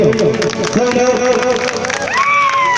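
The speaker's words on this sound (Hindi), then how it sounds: "एक बार सभी लोग माता रानी के नाम से ताली लगाएंगे।" An audience claps along at a Chhattisgarhi stage show honoring the mother goddess, dense applause and crowd noise under music with a sustained vocal tone, loud and near.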